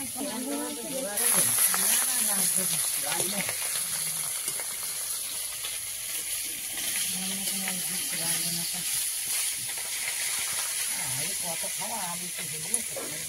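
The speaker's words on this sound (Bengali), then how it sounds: "মাছ ভাজা তো হচ্ছে" Whole loitta fish frying in a pan give off a steady, hissing sizzle that carries through the whole stretch, while someone talks over it close by.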